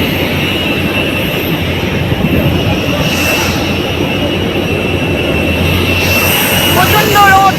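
An IndiGo airliner's jet engines give a steady, loud roar on a hot, sunny airfield before boarding, holding constant with a brief whine rising near the end, and voices faintly underneath.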